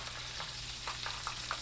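Meatballs fry in a pan with a constant close sizzle, while a utensil stirs and turns them in a few soft scraping knocks.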